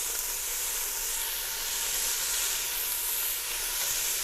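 Onions and peppers sautéing in a pan give a steady, close sizzle with an even hiss that holds without a break.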